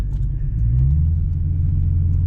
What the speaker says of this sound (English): These winding roads, this car just performs so well.